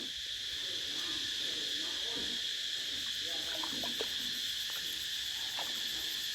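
A dense, continuous high-pitched cicada drone fills the air steadily in a Thai village, with faint distant voices and scattered bird calls underneath.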